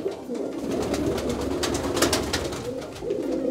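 Pigeons coo repeatedly inside a loft, several soft throaty calls overlapping close by against a low background murmur, with no clear speech.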